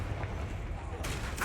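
A Confringo spell blast from Hogwarts Legacy bursts out as a quick, faint explosive crack with a brief follow-up burst, over low rumbling game ambience.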